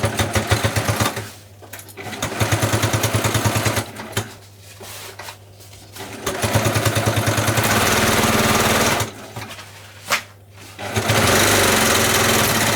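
Sewing machine running in bursts while stitching a straight seam along the top of a waterproof lined beach bag, a loud, steady whirring motor broken by several short pauses, close up with no talking.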